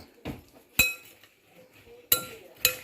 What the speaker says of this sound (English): And then we're just going to stir that up.